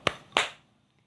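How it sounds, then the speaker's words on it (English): Two sharp claps from one person, close and clear, spaced about a third of a second apart, then quiet. "And she clapped."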